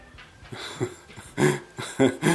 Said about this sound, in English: Dang dog. he's so adorable.